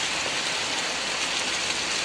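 Dense rain lashes down in Bhavnagar, a bright, constant hiss of drops on surfaces at close range, uniform and loud throughout without any talking.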